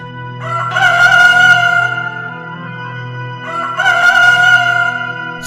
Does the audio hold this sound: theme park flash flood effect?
no